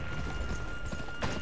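Horse hoofbeats from the western video game Gun, a quick muffled clip-clop of galloping hooves over a steady noisy backdrop.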